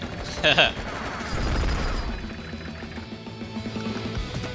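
Bazooka and tank gunfire from the Nintendo DS war game Days of Ruin: a sharp burst of shots early on, then rumbling booms and blasts that continue under game music and sound effects.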